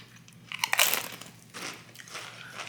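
Close, crisp crunching as blue tortilla chips topped with pickle de gallo are bitten and chewed, with a loud bite burst followed by a few quieter chewing crunches.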